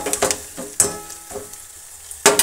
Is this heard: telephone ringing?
no